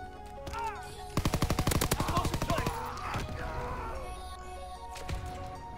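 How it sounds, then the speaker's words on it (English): Gunfire in a search-and-destroy video game match, a rapid burst of loud shots in quick succession, then scattered single cracks amid game sounds. "And this other guy's over here sniping."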